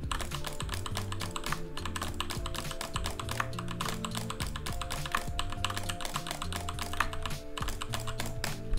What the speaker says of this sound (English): So I just butterfly click on my mouse